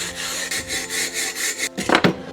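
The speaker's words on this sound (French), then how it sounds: "Puis on va commencer à gratter la peinture et la rouille." A tool scrapes paint and rust off a metal bow in a steady series of rough rasping strokes, about six evenly spaced passes and then a couple of quicker, harsher scrapes, close and fairly loud.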